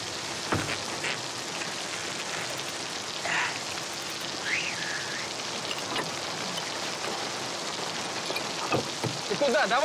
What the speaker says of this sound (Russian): Смотри, какой дождина поливает.